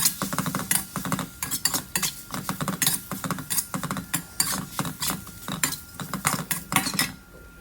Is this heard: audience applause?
no